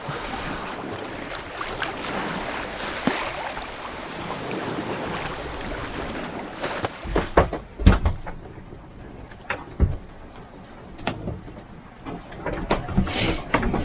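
Sailboat under sail on an ocean crossing, doing about 6 knots: continuous rushing water and wind along the hull, then quieter stretches punctuated by louder splashes and slaps of waves, with no talking.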